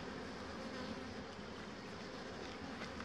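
Honey bees buzz at a hive during an inspection, a dense steady hum that fills the background evenly and quietly without breaks or talking.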